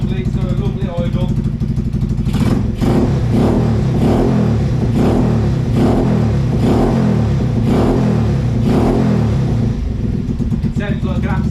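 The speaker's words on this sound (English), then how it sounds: "It sounds like an absolute beast. Lovely tick over noise." Yamasaki YM50 scooter with a swapped-in 125cc engine, heard close and loud as a steady, rough idle with a rhythmic pulsing beat and repeated light throttle swells.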